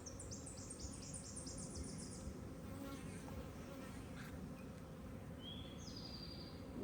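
Honeybees buzz steadily around an opened, heavy hive frame holding brood, bee bread and nectar, a dense continuous drone close by with a few faint bird chirps in the background.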